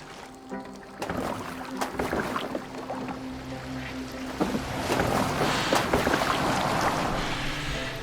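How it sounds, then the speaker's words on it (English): A boat moves across water in the video game Assassin's Creed Valhalla: constant splashing and rushing water with wooden knocks and creaks, growing louder and denser toward the end, with no talk. "Are you well enough to steer this boat?"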